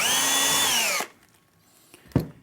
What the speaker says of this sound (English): So, drill a quick hole,